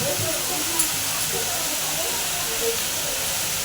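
Water hitting a hot pan of oil and mustard paste, giving a steady, loud, continuous hiss and sizzle that holds even throughout.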